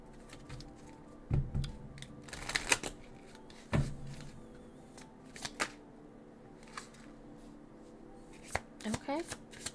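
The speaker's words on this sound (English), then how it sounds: "Shuffle this really quick." A deck of cards is shuffled during a pick-a-card reading, with soft, fairly faint riffling bursts and taps spread irregularly through a quiet room.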